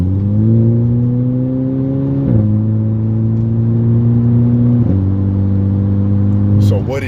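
A VW GTI with a turbo muffler delete and discharge pipes accelerating hard from inside, its engine drone climbing steadily through two gear shifts, loud and close, with someone speaking over it.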